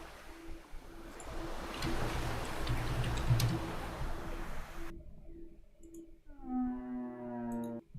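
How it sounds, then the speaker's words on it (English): Whale calls for an ocean survival game: long rising and falling moans over a low steady hum and murky underwater rumble, the cries growing clearer and stacked toward the end. "Whale noise."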